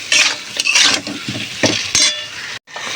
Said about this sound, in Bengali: মশলাটা ভালো করে কষিয়ে এর মধ্যে বাঁধাকপিটা দিয়ে একটা করে আমি কষাতে থাকবো।